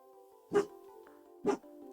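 A dog barks twice, about a second apart, sharp and somewhat distant over a low steady hum.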